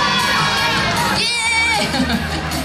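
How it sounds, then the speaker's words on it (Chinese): A crowd cheers and whoops loudly at a celebratory public event, high excited voices swelling together throughout with a brief dip in the middle. "欢呼声越来越大声。"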